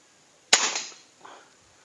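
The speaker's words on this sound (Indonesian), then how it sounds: "Oke, ini saya lakukan tembakan pertama." A single sharp shot from a modified old air rifle cracks once, followed by a brief softer knock a moment later.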